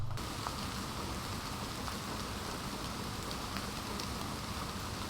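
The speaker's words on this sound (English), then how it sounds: "So it's raining outside right now" Steady rain falls outside, a dense even patter of drops on surfaces that stays constant and fairly soft throughout, with no voices.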